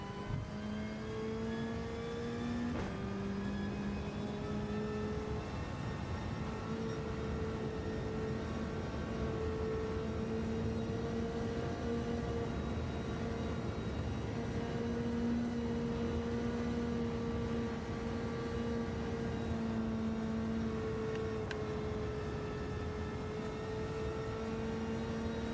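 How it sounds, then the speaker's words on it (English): Wind noise inside a car in Gran Turismo 7: a steady droning whoosh with a humming engine tone that rises and falls through gear changes, continuous and moderately loud for the whole stretch. "There's like a wind noise in this car."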